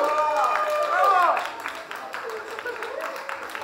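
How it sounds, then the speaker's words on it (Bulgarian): Audience applause for young couples after their dance, a steady wash of clapping with raised voices and whistle-like tones over it at the start, then continuing more softly beneath chatter. "И аплодисменти за тези прекрасни млади хора."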